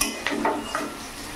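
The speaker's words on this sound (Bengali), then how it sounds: "তো এখানে আমি কাঁকরোলটাও ভেজে নিচ্ছি" Pointed gourd fries in a pan, with soft sizzling and a few quick stirring scrapes in short bursts, close by and without any voices.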